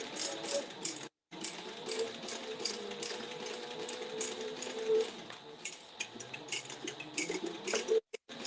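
A sewing machine bastes fabric for a crossbody bag, a quiet, close, steady mechanical whir and rattle with a brief pause near the start and short stops at the end.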